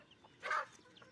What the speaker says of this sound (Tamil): இவங்க சாப்பிட்றத பார்த்து உள்ளே கோழி கத்திகிட்ருக்கோம் எல்லாமே